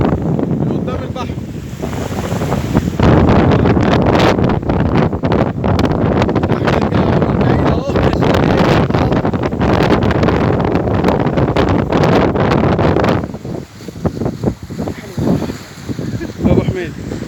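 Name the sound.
strong wind and waves at sea from a fishing boat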